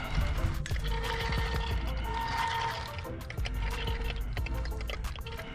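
Kraken Vesla RC boat with a 560 motor on 12S, struggling after possible damage, a dense churning whine and water wash with shifting strain, heard near and loud throughout.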